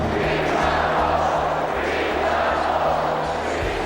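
Loud, dense crowd roar fills an indoor basketball arena, the Delta Center in Utah, during the 1998 NBA Finals, with rhythmic thumping underneath and a steady, raucous wash of noise throughout.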